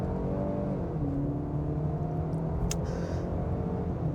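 A 2025 Land Rover Range Rover Evoque accelerating hard, its engine note climbing steadily from inside the cabin with a continuous close rumble and whir, a brief faint click midway, and no talking.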